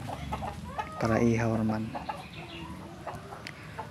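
Free-range chickens pecking at cracked corn feed give off a burst of close clucking and squawking that peaks early, then settles into softer scattered clucks while someone talks over them.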